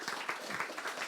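A conference audience claps briefly to welcome a speaker, a short, moderately faint burst of applause.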